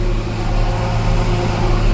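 A harvesting machine chopping a single row of corn for silage fills the air with a loud, steady engine drone and mechanical whir, close by and unbroken, with no talk.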